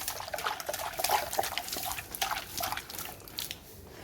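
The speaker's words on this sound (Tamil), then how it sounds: "சரி, இப்போ நம்ம தண்ணி ஊற்றணும்." Water is poured onto a newly planted plant, giving a soft, close trickle and splash with small drips that fade gently near the end, with no talk.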